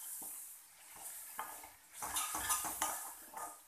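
Spices and ingredients, including coriander powder, are stirred together in a pan for lauki khichdi, with a spoon scraping and clinking against the metal in uneven strokes over a soft sizzle, louder toward the end.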